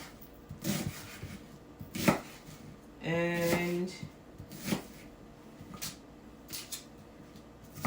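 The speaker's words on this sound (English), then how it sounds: "Just chopping our onions here" Onions being chopped with a knife on a board in a kitchen, a few irregular sharp knocks spaced apart, close and fairly quiet, with a brief tonal squeak partway through.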